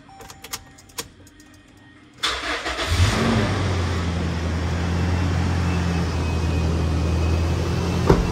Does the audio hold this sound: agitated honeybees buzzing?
no